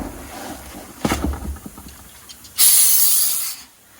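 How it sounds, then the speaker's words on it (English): Brake cleaner sprayed onto a new brake rotor: a loud, close aerosol hiss lasting about a second, preceded by a few faint clicks of handling. "We're just spraying a little bit of brake clean on the rotor"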